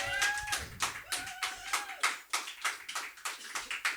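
Audience clapping at a slam poetry tournament, scattered and uneven claps thinning into separate bursts, moderately near, with a few tonal voice fragments early on.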